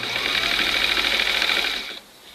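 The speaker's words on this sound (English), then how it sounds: "So instead of pinning it, I just hold it on there, line it up, and then I sew." A sewing machine stitches piping onto a bench cushion, a close, steady rapid whirring hum that runs for about two seconds and then stops.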